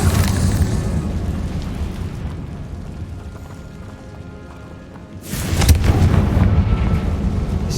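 A Confringo fire spell explodes in the Hogwarts Legacy video game, heard as a loud booming blast with a sharp burst around midway that follows a steady rumbling background.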